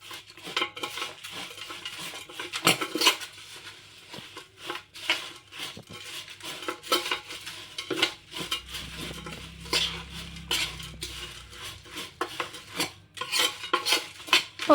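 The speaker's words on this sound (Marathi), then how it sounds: "आता चांगलं मिक्स करून घेऊया थोडंसं." Food is mixed with half a spoon of salt in a bowl before going into an air fryer; a metal spoon scrapes and clinks against the container in quick, uneven strokes, close and moderately quiet.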